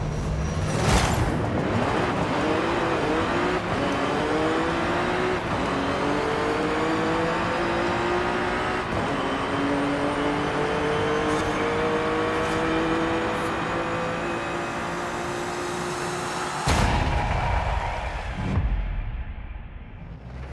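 A Nissan Z Nismo in Forza Horizon 5 accelerating through a half-mile drag race, its engine droning and climbing in pitch through several gear shifts for about seventeen seconds, then cutting off abruptly.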